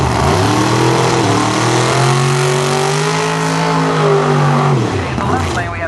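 Pro Mod drag cars, including a 1951 Chevy, accelerate hard down the strip: a loud, steady engine roar whose pitch climbs and holds before falling away near the end, heard under an announcer talking.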